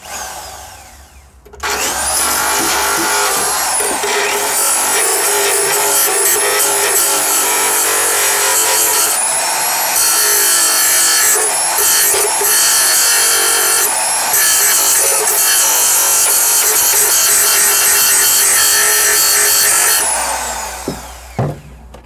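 Power sander grinding across rusty Lada 1200 bodywork, a loud, continuous abrasive whine with a high pitched tone that runs steadily for about twenty seconds, briefly dipping in pitch as pressure shifts, then stops.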